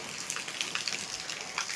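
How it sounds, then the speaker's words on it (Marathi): Steady rain patters and hisses on surfaces in a village, a continuous, fairly faint wash of drops without a break. "टू मच पाऊस."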